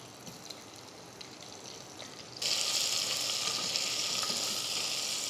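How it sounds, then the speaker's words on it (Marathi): Eggplant pieces shallow-frying in hot oil seasoned with a pinch of asafoetida give a close, steady sizzle that jumps abruptly louder and brighter partway through, then holds a dense hiss with no voices. "चारही बाजूनी छान अशी थोडीशी तेलामध्ये परतून घ्यायची आपण."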